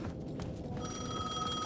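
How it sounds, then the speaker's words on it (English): A payphone in the Alan Wake video game rings with a bright, steady electronic trill, clear and fairly close over a low background hum. "The payphone was ringing."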